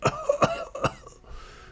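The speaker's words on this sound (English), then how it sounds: "The old man coughs again." An old man in the Pathfinder Kingmaker video game coughs three times in quick, sharp bursts, followed by a fainter raspy throat-clearing breath.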